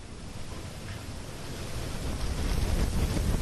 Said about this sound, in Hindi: तेज हवाओं के साथ उफान का शोर भी सुनाई दे रहा है।